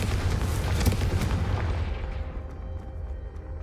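A Confringo fire spell bursts in Hogwarts Legacy, a single loud, booming explosion whose heavy rumble rolls out and slowly fades over a few seconds.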